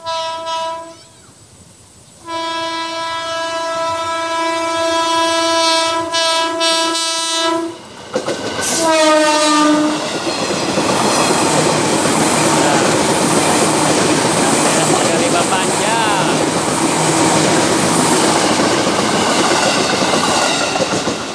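A KRL commuter train on the double-track Rangkasbitung line near Citeras station sounds a long, loud multi-tone horn twice, then passes close by with a sustained roar and rattling wheels.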